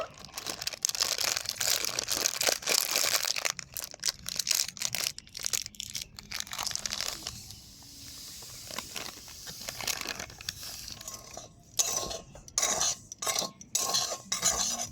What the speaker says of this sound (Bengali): সুজিটাকে আরও ভালো করে একটু টেলে নেবো